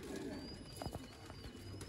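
Faint, low cooing from golden breeder pigeons repeats softly in the distance against a constant hiss of background noise.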